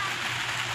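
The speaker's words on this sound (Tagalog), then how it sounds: "biglang bumuhos ang ulan" Sudden heavy rain pours down at midday in a steady, dense hiss that stays loud and unbroken throughout the short stretch.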